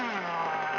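Small O.S. glow-plug RC nitro engine idling, a steady near buzzing hum with a smooth, even tone and no voices over it.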